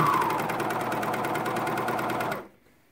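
A coverstitch sewing machine stitches a hem on knit pants, a fast, even mechanical whir with rapid stitch ticks, close and steady, cutting off abruptly near the end into quiet.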